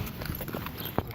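A horse's hooves clip-clop at close range in a few light, uneven knocks, ending with one sharper strike.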